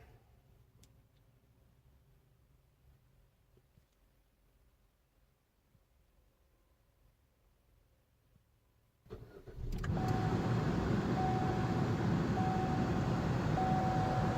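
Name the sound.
2018 Chevy Trax engine starting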